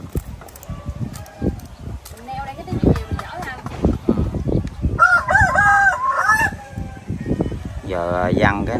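A rooster crows twice nearby in a rural riverside setting, the calls cutting through ongoing conversation between people.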